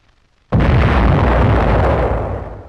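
A gun fires a shell during a velocity test, one sudden loud blast with a dense rumbling report that slowly fades, heard alone after near silence.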